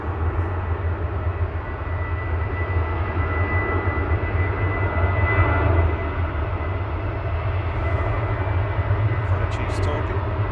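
A plane at Manchester Airport roars steadily on its takeoff run, a broad, sustained engine rumble heard from a distance with no clear rise or fade.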